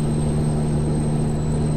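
Peterbilt 389 truck engine in Euro Truck Simulator 2, a continuous deep droning hum with a steady tonal whine, unchanging and fairly loud, with no talking.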